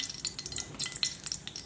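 Refined oil sizzling in a wok with cumin seeds while cooking a pointed gourd curry, a quiet, crackly frying hiss with small spitting pops, close and alone.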